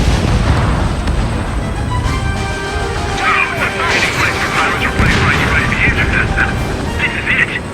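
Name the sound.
missile launch and explosion in the video game Ace Combat 7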